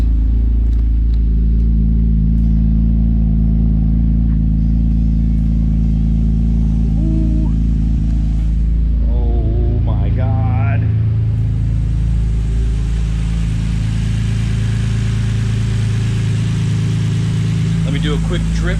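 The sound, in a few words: Nissan Skyline RB engine exhaust idling after cold start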